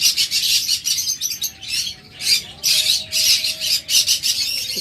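Cage birds for sale, among them doves, cockatiels and budgerigars, chirp and squawk in bursts of sharp, close calls with a thin whistling tone running underneath.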